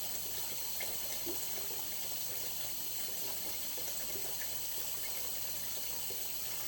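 Tap water runs steadily into a sink to get a face cloth hot and wet during a skincare routine, a constant close gushing hiss lasting throughout with no talking.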